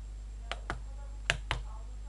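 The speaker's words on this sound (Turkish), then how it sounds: "Buraya birazcık kırpacağım. Makasla kırpabildiğim kadar." Scissors trim material for a homemade wifi booster, four crisp separate snips in a quiet room, close and clear over a low steady hum.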